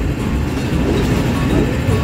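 Loud rumbling of train wheels rolling along rails on the Eiffel Tower, a continuous low mechanical roar with faint rattling, close by.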